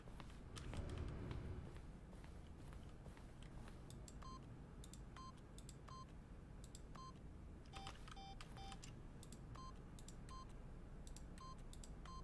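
Keypad buttons pushed in The Stanley Parable: a series of short electronic tone beeps, some single and some in quick clusters, over a low quiet ambient hum.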